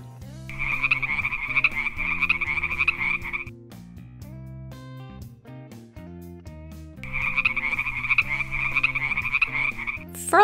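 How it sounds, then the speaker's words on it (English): A frog croaks in two long bursts of rapid, rattling trills with a pause between them, set over a gentle background melody. "Frog."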